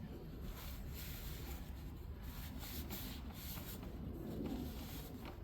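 Steady, close abrasive rubbing as the casing surface of a Rhino Multi Pro XA anvil is honed smooth, a continuous gritty scrape with no pauses.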